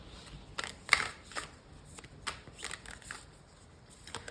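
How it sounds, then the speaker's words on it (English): Tarot cards are shuffled close by in quiet, brisk riffling bursts, with soft papery flicks and snaps scattered across the stretch and no talk. "I'm going to take another card or more cards."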